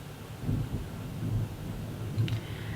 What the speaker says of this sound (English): I see the thunder is gonna make this so hard.